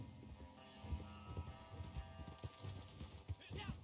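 Horse hooves clip-clop in a video game, a fairly quick, uneven trot of soft thuds beneath quiet voices and game sounds.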